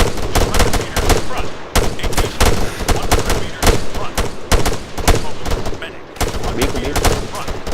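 Dense, loud gunfire from the military shooter ARMA 3 rattles almost continuously: rapid automatic bursts and sharp single shots overlap in a close, sustained firefight.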